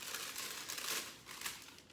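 Parchment paper being cut and handled for a round to line a cake pan, a steady crinkling rustle with swells of crumpling, close and fairly soft, with no voice.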